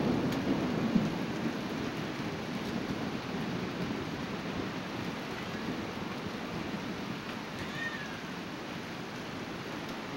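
Steady heavy rain during a thunderstorm in Utah, a continuous broadband hiss with low rumbling of thunder beneath, fairly close and even throughout with no talking.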